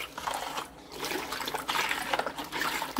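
Liquid laundry soap mixed cold from powdered soap, stirred steadily in a container, giving continuous sloshing, swirling water sounds with brief gentle pauses, close and moderately loud.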